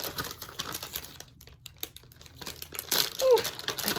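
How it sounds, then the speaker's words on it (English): A plastic package being ripped open, with crinkling and tearing bursts that come in uneven spurts and grow louder toward the end, close to the microphone. "Let's rip it open."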